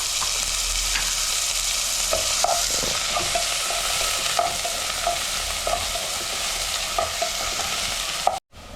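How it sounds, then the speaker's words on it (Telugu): Green chillies and onion pieces frying in hot oil in a home kitchen for a chicken curry, a steady loud sizzle throughout with repeated scraping stirs of a spoon against the pan, no talk, ending in a brief clatter. "నూనె పోసుకున్నాము. పచ్చిమిర్చి ఉల్లిపాయ ముక్కలు వేసుకున్నాము."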